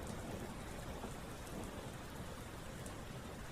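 Steady, dense rain falls without a break, a loud even hiss with a low rumble beneath it and no voices.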